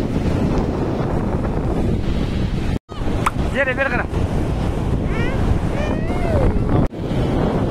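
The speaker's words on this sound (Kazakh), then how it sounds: "жел қатты болып тұр" Strong wind buffets the microphone on a lakeshore at Balkhash, a loud continuous rumble with water washing in, while someone speaks briefly and children's voices and squeals sound through it.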